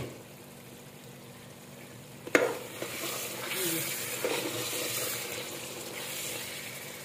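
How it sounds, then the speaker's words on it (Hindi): Potatoes frying and being stirred in a pan for a gobhi aloo dish, with a steady sizzle throughout and a sharp scrape or clink about a third of the way in, followed by ongoing stirring. "आलू को सामने भून लिया।"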